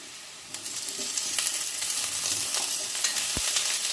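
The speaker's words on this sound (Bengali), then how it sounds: "এখন এর মধ্যে কেটে রাখা টমেটো দিয়ে দিচ্ছি" Chopped tomato goes into potatoes already frying in a pan, and a close, steady sizzle rises and grows louder as the pieces are stirred in. A soft knock comes near the end.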